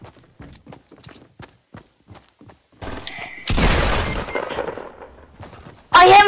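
Gunfire in the Fortnite video game: light rhythmic footsteps come first, then a loud, sustained burst of shots and a final sharp, heavy blast at close range.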